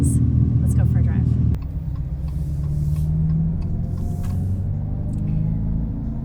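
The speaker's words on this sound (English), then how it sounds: "you guys have heard the weird electronic sounds that some electric vehicles make on purpose" A Dodge Charger Daytona Scat Pack electric muscle car with 670 horsepower plays its synthetic engine sound while driving. A deep, loud rumbling drone with a droning hum sits under a voice, shifting tone after the first second and a half.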